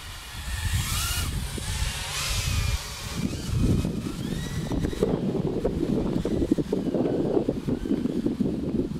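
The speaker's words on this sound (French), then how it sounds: "Ah, il y a du vent, fait chier." Gusts buffet an outdoor microphone where small FPV drones are flown, giving rough, uneven rumbling bursts that swell and fade over several seconds, with a faint high-pitched motor whine in the first few seconds.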